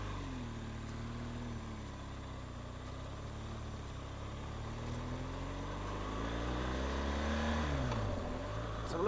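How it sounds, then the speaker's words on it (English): A 2013 BMW R1200 GS boxer motorcycle engine rumbles steadily while riding, low and continuous under wind noise, rising slightly in pitch and loudness toward the end as it accelerates. "Actually, I love the low rumble of the engine."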